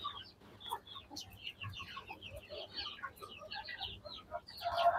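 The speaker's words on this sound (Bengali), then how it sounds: "এটা হলো হাসনি মুরগি।" A Hasni breed chicken clucks softly nearby in a series of short, scattered clucks and murmurs that rise to a slightly louder call at the end, with no talk heard.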